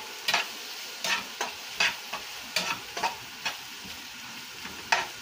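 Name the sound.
frying spice paste in oil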